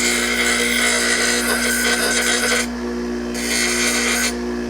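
An angle grinder wearing down a bent Lippert RV support, a continuous close harsh grinding rasp that briefly changes pitch as the tool shifts on the metal.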